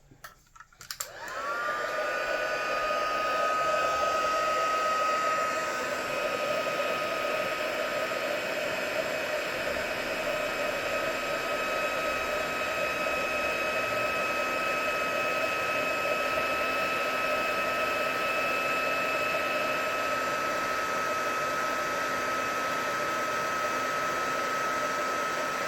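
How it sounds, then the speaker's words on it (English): A heat gun blows steadily for heat-embossing a stamped card, starting with a click and then a continuous airy roar with a faint whine that holds level throughout, close and alone. "I'm just going to heat emboss this now"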